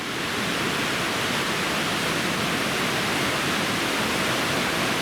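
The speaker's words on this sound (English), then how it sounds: "It's a pretty impressive little waterfall." A small waterfall spilling over a rock overhang beside a mountain trail near Triple Divide Peak, a steady, dense rushing roar that stays constant and fairly close throughout, with no voices.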